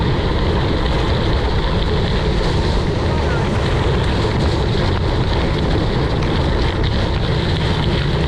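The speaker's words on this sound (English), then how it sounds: "It's definitely getting windy." Strong wind buffeting the microphone during a gravel bike ride in the New Forest, a constant loud roaring rush with no letup throughout.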